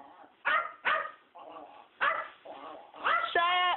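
A dog barks in sharp repeated bursts with higher yips and whines between them, close and fairly loud, alone without talking.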